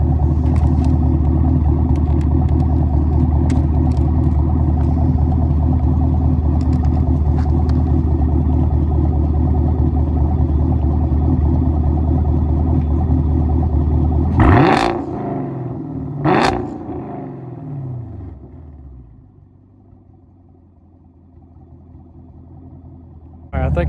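A Chevrolet Camaro SS V8 with an AWE Track axle-back exhaust rumbles loudly at close range for a long steady stretch, then blips twice with sharp crackling revs before settling to a quieter idle.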